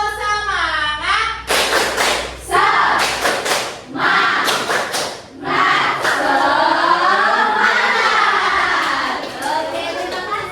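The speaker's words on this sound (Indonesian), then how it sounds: "Lagi sekali. Tepuk semangat." Children in a classroom repeat the tepuk semangat spirit clap, clustered rhythmic handclaps alternating with loud group chanting, close and energetic.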